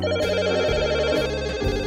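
An electronic phone ringtone plays loudly and continuously, a repeating melodic tone pattern with no talking.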